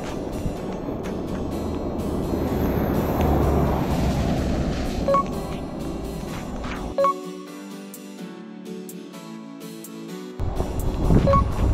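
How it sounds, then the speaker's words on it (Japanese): Strong wind buffeting the microphone on a rocky coast in bad weather, a loud roaring rush that drops away abruptly partway through before gusting back in near the end. "ちょっと風強いですね。"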